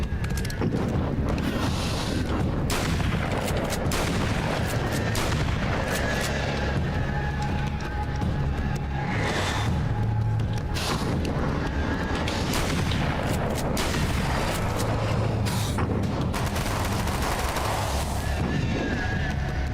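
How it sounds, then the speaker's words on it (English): Booming shotgun blasts and heavy action noise from the video game American Nightmare, a dense, continuous loud roar of gunfire and effects running the whole time with no break. "I am going to switch to the shotgun."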